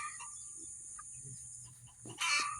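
A Moran chicken pullet making soft, sparse clucks nearby in a quiet coop, with a louder burst of squawking near the end over a faint steady hum.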